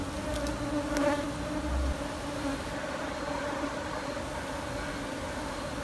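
Honeybees buzz continuously around a nest built inside old tires, a steady close hum with a few brief sharper clicks near the start.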